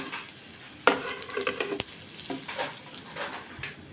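Onion and fresh coconut sautéing in a pan for a clam masala curry, with a soft steady sizzle, a sharp clatter near the start and intermittent scraping stirs throughout.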